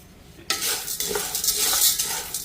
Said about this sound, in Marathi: डाळ भाजायला घेतलेली आहे